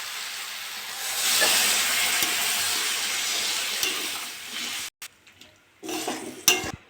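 Water poured into a spice masala frying for a fish, bean and potato chorchori sets off a loud rushing hiss of steam and sizzle that cuts off abruptly, followed by short bursts of stirring.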